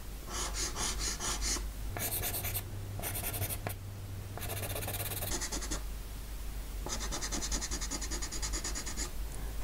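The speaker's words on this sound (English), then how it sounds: "I'm just roughly sketching it through because I will still be blending it quite a bit." A pencil sketches an orchid on paper in quick, close, scratchy strokes, with bursts of rapid back-and-forth shading separated by short pauses, soft and steady with no voices.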